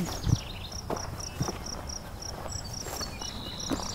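Steady, rhythmic cricket chirping pulses through the whole stretch in a meadow at the south end of Beverly Swamp, with a few soft footsteps or thuds now and then underneath.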